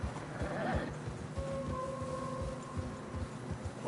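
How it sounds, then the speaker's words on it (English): Horses struggling through deep fresh snow in Red Dead Redemption 2, with a short neigh near the start, low thudding steps and a faint drawn-out tone in the background, no voices. "Horses are struggling."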